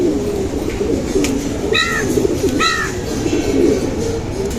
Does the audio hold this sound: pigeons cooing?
yes